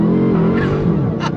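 A 2022 Dodge Challenger Super Stock launching from a dead stop, a loud close engine roar with rising harmonics and a short hiss of tire noise, over a moment of voice.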